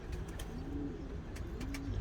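Pigeons coo softly in low, rolling calls, a couple of gentle warbling phrases close by with faint ambient noise around them.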